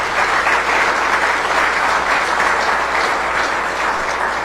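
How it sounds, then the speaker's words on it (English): Sustained, dense applause from an audience at a downtown partnership annual meeting in Davenport, loud and steady throughout with no pauses. "Let's give that an applause"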